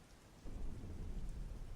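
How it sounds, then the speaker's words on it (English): Steady rain with a low rumble of thunder during a thunderstorm, starting quietly and swelling into a loud, continuous roll after the first half-second; no voices. "But with thunder, loud ass thunder,"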